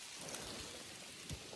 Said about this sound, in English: that would be hail